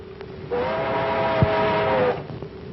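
A streamliner train whistle sounds as the train arrives at a junction, one sustained loud horn-like blast lasting about a second and a half over the low rumble of the approaching train.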